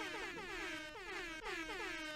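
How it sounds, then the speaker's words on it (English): Repeated blaring air horns sound in overlapping bursts, layered and pitch-bending, with no voices. "There's too many air horns"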